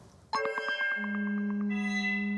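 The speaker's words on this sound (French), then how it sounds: "on continue en musique avec l'un des plus vieux instruments du monde, la conque" A single sustained horn-like blast from a conch shell, starting abruptly and holding a steady, resonant tone with a rough fluttering onset.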